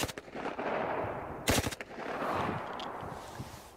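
Handgun shots at targets, a quick cluster of sharp cracks near the middle over steady outdoor background noise, with a few fainter pops around them.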